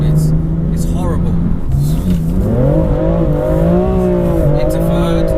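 A BMW M4 accelerates hard on a cold, soaked road, its engine note climbing steadily in pitch close by, with tire noise and a voice talking over it.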